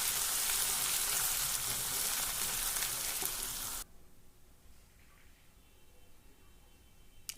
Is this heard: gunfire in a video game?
no